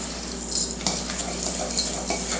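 Fork clinking and scraping through a bowl of melted butter, chocolate and cookie crumbs, a few soft taps over a steady background hiss, with no talking.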